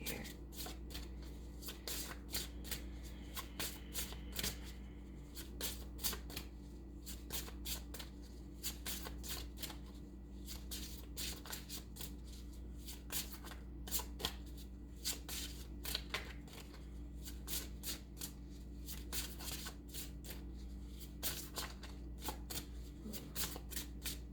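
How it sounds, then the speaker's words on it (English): Tarot cards are shuffled continuously nearby, a steady run of soft riffling flutters and slaps over a low background hum. "This is why I like shuffling off camera, because sometimes it takes a while."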